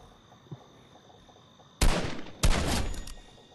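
Bursts of gunfire in the Fortnite video game: a faint early shot, then two loud sustained volleys of rapid fire close by, separated by a brief gap.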